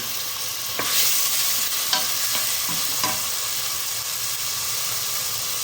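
Noolkool pieces frying with a steady close sizzle while a spoon stirs them in the pan, a few soft scraping clinks breaking through the constant hiss.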